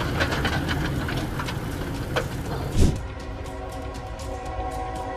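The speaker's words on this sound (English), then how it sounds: "a Union Pacific freight train collided with a truck hauling a rubber-tired crane" Union Pacific freight train colliding with a truck carrying a rubber-tired crane: steady loud rail rumble and engine drone, with a sharp impact thud near the end before a lower, tonal rolling noise continues.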